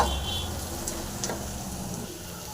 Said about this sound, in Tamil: இடித்து பூண்டு போட்டுடலாம் இதை போட்டு நல்லா ஒரு ஃப்ரை பண்ணிக்கலாங்க